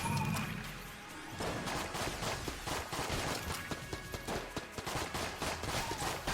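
Rapid gunfire from a Colt 1851 revolver in the game Enter the Gungeon, a dense run of sharp shots and impacts layered over busy game effects and music.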